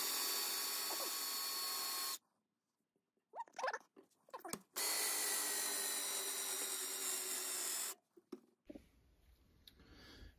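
A drill spins a crowning bit with lapping compound against the muzzle of a muzzleloader barrel, giving two long, loud, steady grinding passes broken by a quiet gap with brief handling noises.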